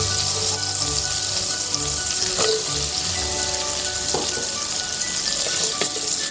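Mushrooms sizzling and frying in butter for a beef stew, a steady crackling hiss with a few sharper pops, close and fairly loud, no voices.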